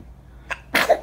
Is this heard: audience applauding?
no